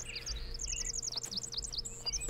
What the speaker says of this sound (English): I like the bird sounds.